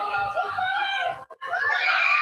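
A child screams loudly and continuously during a fast-running game of tag among 6-8 year olds, the high shrill voice broken only by a brief gap before resuming at full force.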